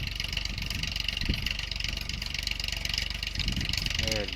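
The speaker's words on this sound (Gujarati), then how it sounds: "આપણે બીજું ટ્રેક્ટર જો સામે હાલે છે" A farm tractor engine runs steadily in a field where a rotavator is being fitted, a continuous mid-pitched drone with a brief rise near the middle and toward the end, heard alone with no talk.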